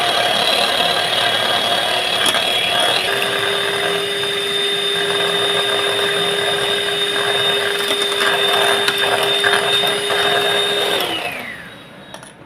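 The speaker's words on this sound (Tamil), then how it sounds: "இது நல்லா க்ரீமாக மாறுற வரையுமே நம்ம மிக்ஸ் பண்ணுறோம்." Steady electric mixer or blender whirring loudly and continuously as a liquid is whipped into cream, with a rising motor tone that winds down near the end.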